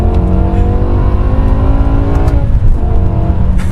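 A 2007 BMW E63 M6 with its V10 engine revs hard and loud, rising in pitch through the gear, then drops briefly on an upshift before pulling again, heard close with no talking.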